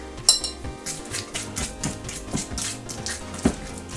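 Fork mashing softened butter in a bowl, producing a series of soft scraping taps and light clinks of metal against the bowl in an uneven rhythm, fairly quiet and close.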